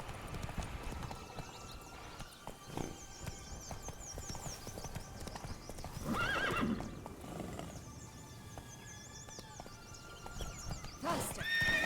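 Roach, the horse in The Witcher 3 game, gallops with steady clip-clop hoofbeats and a whinny, set against ambient game audio, moderately loud and continuous throughout.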